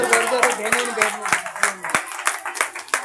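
A school audience at a children's Independence Day program claps for a girl, quick, fairly close rhythmic clapping over a few seconds with voices faintly underneath.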